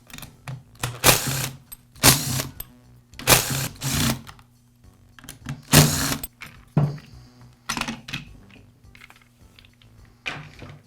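Parts of a Poulan chainsaw's starter assembly are removed with tools, giving a series of sharp, close metallic clicks, rattles and scrapes in irregular bursts, without talk.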